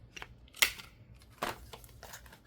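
Scissors snip through the edges of stacked paper pieces. There are two distinct crisp cuts about a second apart, with faint rustling of paper between them.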